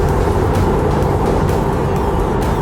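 Tesla Model 3 driving itself, heard from inside as a steady low rumble of road and tire noise with a constant interior hum, no voices.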